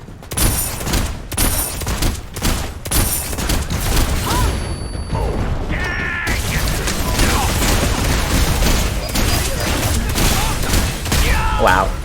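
Tower destroyed in the video game Paragon: The Overprime, a dense, loud burst of gunfire-like blasts, crashes and booming mechanical clatter running continuously, with game effects layered on top.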